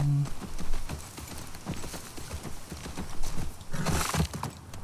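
Rhythmic hoof clip-clops from a horse in motion in the video game The Last of Us Part II, with a sharp whinny near the end, all fairly close and steady.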